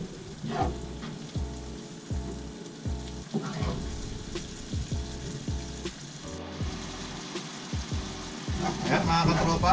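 Corned beef bubbles and sizzles gently in a pan with a little added water, a soft continuous crackle with occasional stirring scrapes, close by.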